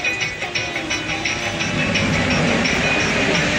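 A train approaches a closed level crossing, a steady rumbling rail noise that grows slightly louder and holds throughout, with no talk over it.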